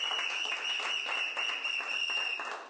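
Steady applause from an assembled audience following a doctoral thesis defence, dense and even throughout with a constant high tone running beneath, moderately loud and without speech.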